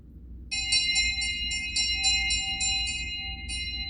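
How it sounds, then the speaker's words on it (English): A bell rings in a quick series of bright, ringing strikes, roughly a dozen metallic chimes over a low rumbling background, clear and moderately loud, with a short pause before the last stroke. "The bell invites me."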